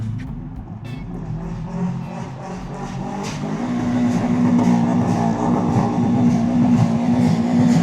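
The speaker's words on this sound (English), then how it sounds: "I don't think I've ever rev bombed my car like that" Subaru EJ25 engine in a car being revved hard, a loud growling roar that climbs and holds, with rough, uneven pulses throughout.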